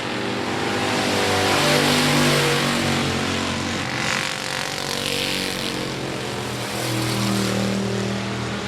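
Race cars roar around an oval speedway in a steady, loud engine drone, with rising and falling revs as several cars pass close by and power through the laps.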